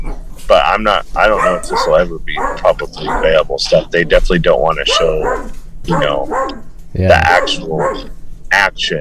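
A dog barks and yips intermittently in the background, fairly faint and partly buried beneath continuous conversational speech from a nearby man and woman during an indoor interview.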